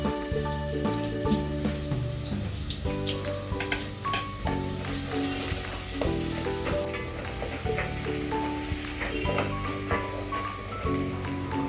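Onion frying in oil gives a steady, dense sizzle throughout, under a loud sustained tonal background with rhythmic chord-like bands that suggest music playing alongside.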